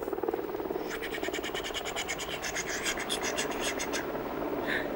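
Cartoon helicopter effect approaching over a water scene: a steady, rapid chopping flutter that builds over several seconds against a continuous background wash, then cuts off, followed by a brief faint squeak.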